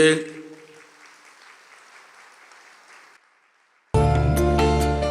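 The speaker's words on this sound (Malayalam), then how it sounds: "ഒന്ന് കൈ ഉയർത്തി കൈയടിച്ചേ" A Catholic congregation bursts into loud applause after a pause, the clapping dense and close as it starts abruptly and fills the space, following a stretch of fading crowd noise and a near-silent gap.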